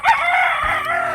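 A rooster crows nearby, one loud, drawn-out, strained call that fills most of the moment, with nothing else competing.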